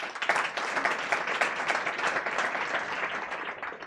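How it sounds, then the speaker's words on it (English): An audience at Start-Up Night Africa in The Hague in 2024 gives a round of applause, a brisk, even patter of many hands clapping that stays fairly constant from start to finish. "A round of applause."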